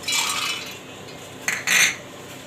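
Raw peanuts tip into a steel mixer jar with a scattered rattle, then two quick clattering pours follow at close range, each lasting a fraction of a second.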